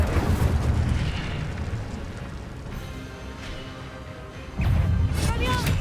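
Spell-casting effects from Hogwarts Legacy gameplay, with an Incendio fire spell among them: loud, dense rumbling blasts that ease off midway and then surge again near the end, with a voice faintly present in the mix.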